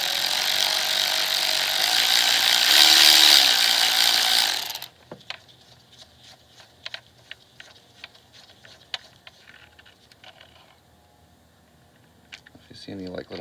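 A ratchet loosens the long reverse-Torx valve cover bolts on a Mercedes M112 V6, giving a run of quick, close clicks and short ratcheting bursts after a loud blast of compressed air at the start.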